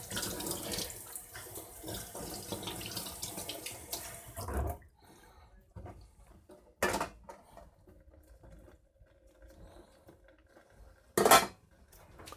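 Camping stove kit pieces being washed in water, with soft sloshing and rinsing followed by sparse, sharp clinks of metal pots and parts knocking together, close but quiet with long gaps.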